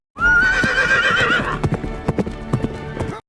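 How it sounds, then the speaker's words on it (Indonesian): A horse gives a loud, close whinny, then its hooves clip-clop away in a quick, uneven rhythm as the rider departs. "Yang Jian juga keluar menggunakan kuda untuk menyusul kepergian ayahnya"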